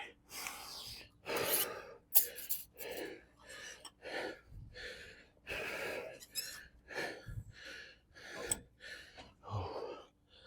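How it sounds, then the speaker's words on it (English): Exaggerated, loud breathing between sets of a high-intensity back workout, with forceful inhales and exhales in an irregular rhythm of sharp gasps and puffs, close and alone without talk. "you need to be breathing in between those sets, they're intentional, they're loud, not because they need to be loud, but they're exaggerated."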